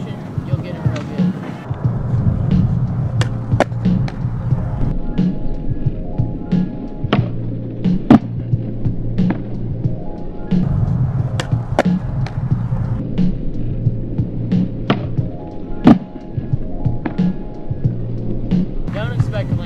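A skateboard rolls with a steady rumbling wheel noise, punctuated by a few sharp clacks and knocks of the board popping and landing, while a person talks over it throughout.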